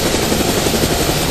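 A helicopter in the GameGuru Max video game lands, heard as a loud, steady rotor and engine drone with a dense, even chop, close and continuous with no talk over it.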